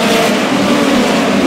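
Midget race cars of the POWRi Lucas Oil National Midget League roar around the Lake Ozark Speedway dirt oval, a loud, steady engine drone filling the whole short stretch without a break.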